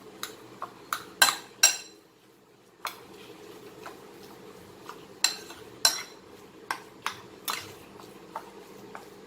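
Chicken momo stuffing being mixed in a bowl, a spoon knocking and scraping against the dish in irregular clinking bursts, close and fairly crisp, with short pauses between strokes.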